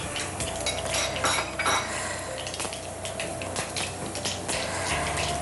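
Mustard seeds and cumin splutter in hot ghee while ghee idli is being made, sharp crackling pops mixed with close metallic clatter from the pan and utensils, busy and uneven throughout.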